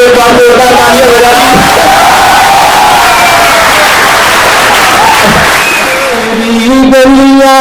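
A loud audience at a poetry reading at a literary festival erupts in clapping mixed with cheers and shouts, with voices calling out above the noise throughout.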